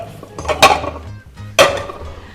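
Bowls and dishes handled on a kitchen counter while cooking enchiladas, with two sharp clattering knocks of crockery against a hard surface amid softer shuffling and clinks, close and fairly loud.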